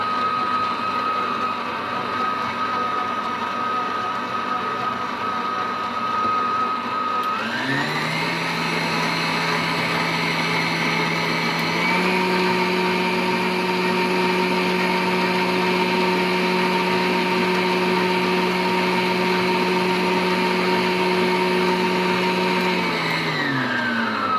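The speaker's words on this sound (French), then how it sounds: "Là, on mélange bien toute la farine avec tous les ingrédients que je vous ai parlé" Electric mixer kneading homemade pizza dough of flour and water, a loud steady motor whine that steps up in speed partway through, runs continuously, then slows near the end.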